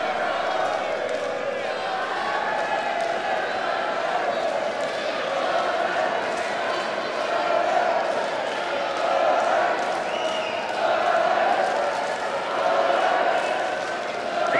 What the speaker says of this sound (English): Crowd starts a John Duddy chant.